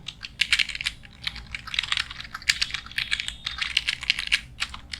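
Rapid, close clattering of a computer keyboard as attendance entries are typed into an Excel sheet, uneven bursts of keystrokes with short pauses and no talking.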